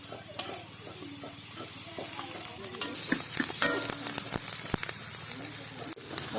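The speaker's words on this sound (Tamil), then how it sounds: "பெருஞ்சீரகம் தேவையான அளவு போடுவோம். கருவேப்பிலையும் ரம்பையும் போட்டு வதக்குவோம்." Fennel seeds and curry leaves sauté in a pan for a village-style chicken curry, giving a continuous hissing sizzle with spoon stirs and scrapes and a faint voice in the background.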